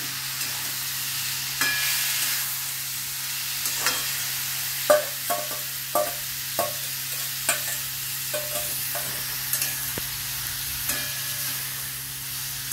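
Chicken marinated in sour yogurt sizzles steadily in a pan for chicken masala pulao, while a spoon stirs it with repeated, fairly regular scraping knocks about once a second, close and clear, with no talk.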